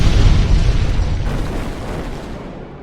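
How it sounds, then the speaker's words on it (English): A single loud, deep explosion booms right away and then rumbles and fades slowly over about three seconds, with no one speaking. "Explosion!"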